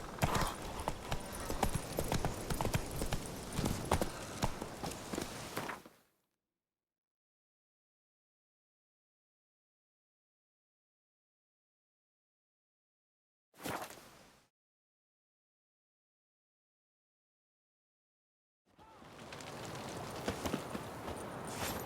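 Hoofbeats of the horse Roach galloping in The Witcher 3, a fast rhythmic clip-clop that cuts out abruptly, returns for a brief burst, then resumes near the end after long silences.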